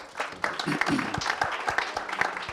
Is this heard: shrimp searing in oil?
no